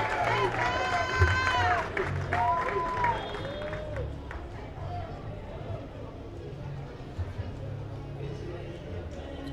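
A crowd at a Puerto Rican flag raising ceremony in Paterson claps and cheers for a senator, loud at first with a voice over it, then thinning into lighter, scattered applause and chatter.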